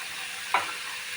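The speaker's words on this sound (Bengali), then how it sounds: "এগুলো সব ফ্রাই করতে হবে ভালো করে" Chopped onion, tomato and green chili fry in a pan, giving a steady soft sizzle with one brief stir or scrape in the middle, close and without any talk.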